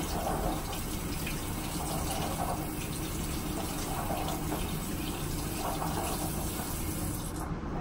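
A makeup brush rinsed under a running tap, a steady close gush of water splashing in a sink throughout, loud and unbroken, with no speech.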